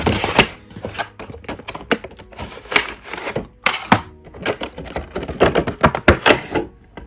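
Cheap plastic steelbook Blu-ray package for The Thing being opened, a close, loud series of irregular clicks, clacks and thunks with no talking.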